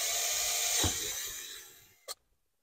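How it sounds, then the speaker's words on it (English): A power drill bores a hole through an interior panel of a 2004 Honda Element, a short steady whine that fades as the bit breaks through, followed by a brief sharp click before silence. "that's why I'm drilling pretty freely"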